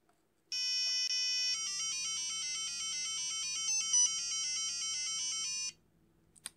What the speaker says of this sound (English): add audio sounds to our Arduino robot, our Zumo bot, in a variety of ways